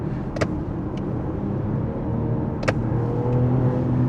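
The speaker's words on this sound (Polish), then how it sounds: "Wciskasz raz gaz do dechy i go od razu puszczasz. On się wkręca na obroty." A BMW X3 M50 engine hums and settles after a quick full-throttle blip, a steady close rumble heard from inside the car with small clicks and no talking.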